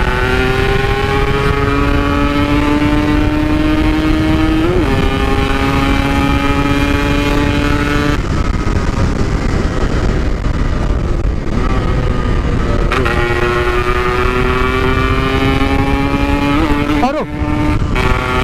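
A Yamaha RX King two-stroke motorcycle is ridden at night, its engine note rising through repeated gear pulls with a raspy, buzzing tone, loud and close throughout, with wind noise.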